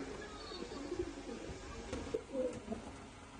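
Tournament racing pigeons coo softly in a loft, several low, throaty calls overlapping against steady background noise, with no clear speech.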